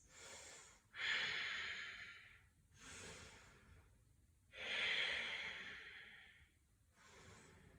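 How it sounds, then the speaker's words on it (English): Slow, deep breathing during a yoga practice: long, airy inhales and exhales rise and fall in a steady rhythm, with two fuller breaths standing out, close and fairly quiet with no talking. "A couple more deep breaths."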